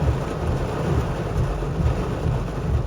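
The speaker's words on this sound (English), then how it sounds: "we had multiple stretches of heavy rain." Heavy rain pours steadily with low thunder rumbling beneath it, a dense, continuous wash of sound with no voices.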